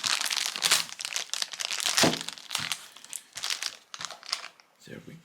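Plastic wrapping crinkles and tears as it is pulled off a Kurono Tokyo watch box during unboxing, with continuous close crackling and rustling and a voice talking over it.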